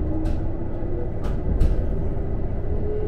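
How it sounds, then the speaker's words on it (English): A Toyama Regional Railway train rumbles steadily as it comes to a stop at Terada Station, a low continuous drone of wheels and motor with a few brief hissing bursts, close and fairly loud with no voices. "And soon the train stopped"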